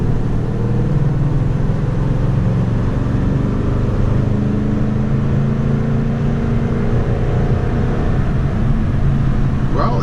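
A Toyota Tundra pickup's engine drones steadily while driving in third gear, a continuous close cabin hum with slowly shifting tones and no break.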